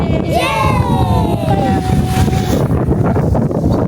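Strong wind roars steadily against the microphone outside a cafe, a loud continuous rush with a brief whistling tone in the first seconds.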